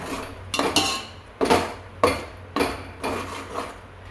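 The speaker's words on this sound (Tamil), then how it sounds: "நல்லா கிண்டி விடுவோம் பச்சை வாசனை போகிற வரைக்கும்" Paneer biryani masala stirred in a metal pot, a ladle scraping and clanking against the sides in about six distinct strokes, close and fairly loud, with no voices.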